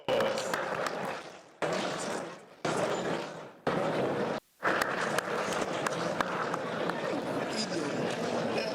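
Applause at a book launch marking 150 years of the Sagrenti War, a dense crowd clapping in loud bursts broken by brief pauses, with a short silence midway before clapping resumes steadily.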